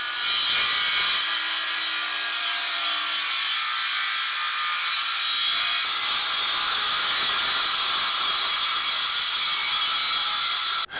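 A circular saw rips steadily through a wooden board, one long, loud, continuous whine of the blade in the wood, cutting off abruptly at the end.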